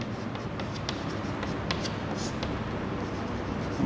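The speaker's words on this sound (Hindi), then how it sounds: "तो यहाँ लिखते हैं" Handwriting a maths solution makes a close, faint scratching of pen strokes in short repeated bursts over a low background hum.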